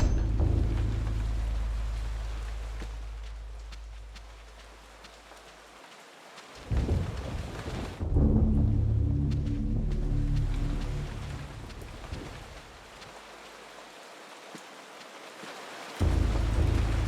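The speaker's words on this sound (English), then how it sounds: "Oh, that rain sound, though, sounds really nice." Steady rain with deep rolling thunder in the horror video game Eternal Darkness, the low rumbles swelling and cutting out abruptly several times against a constant hiss of rainfall, loud and close with no talking.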